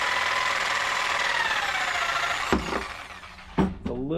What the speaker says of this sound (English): a lot of people love using this a Sawzall to cut PVC.